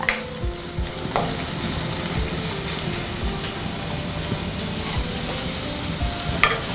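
Onions fry in a pan for vegetable cutlets, making a loud, close crackling sizzle with frequent scraping and tapping from a stirring spoon.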